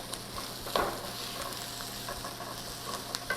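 Fried rice cooking in a hot pan, a steady close sizzle and crackle with a few louder pops and stirring scrapes, no talking.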